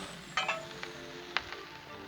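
Vegetables spread across a Blackstone griddle during a chicken and shrimp stir fry, a steady broad hiss of sizzling broken by a few sharp metallic clinks of a spatula against the hot steel surface.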